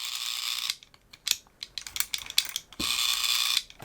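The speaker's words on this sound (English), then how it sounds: "a governor, which actually governs the speed at which the rotary dial spins" A rotary telephone dial spins back under its speed governor, giving bursts of high whirring buzz separated by a run of small mechanical clicks and ticks, close and alone.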